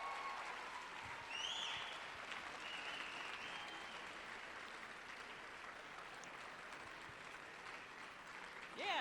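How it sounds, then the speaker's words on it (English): Sustained applause from an audience after a music ensemble's performance at a stage concert, a steady fairly quiet wash of clapping across the whole span, with a few faint voices and whistles over it. "Let's have another round of applause for this incredible ensemble."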